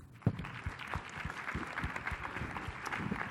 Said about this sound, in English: if you could join me with a round of applause for our panelists.